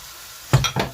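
Chopped onion dropped into hot oil in a pan for lentil dal with okra, a sudden loud sizzle bursting up and then surging again as the pieces are stirred, close by with no speech.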